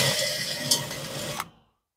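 A low-speed blending cartridge deburring the edge of an aluminum hotrod wheel gives a short, light scraping whir with a brief gritty burst near the end, then cuts off cleanly.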